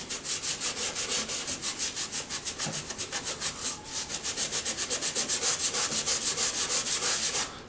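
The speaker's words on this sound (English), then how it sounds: "take some steel wool, go in here, give it a nice sand, clean up around the edges" Steel wool rubbed over puttied crown molding, a steady scratchy sanding with quick rhythmic back-and-forth strokes, close and fairly loud throughout with no talk.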